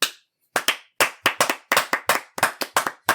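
A few people clap in a podcast studio, about a dozen sharp, separate claps in an uneven rhythm after a short pause, close and fairly loud, with no talking.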